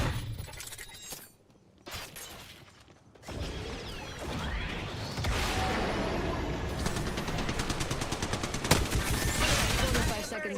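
Rapid bursts of gunfire crackle through a battle royale game firefight, dense automatic fire building from about four seconds on and running steadily to the end, with a few crashing impacts and some talk mixed underneath.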